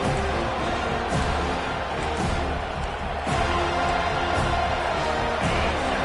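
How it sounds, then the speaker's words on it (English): A huge stadium crowd at a Florida State versus Arkansas football game roars steadily throughout, a dense, continuous wash of cheering and noise with no pauses. "listen to this crowd noise. This stadium is vibrating."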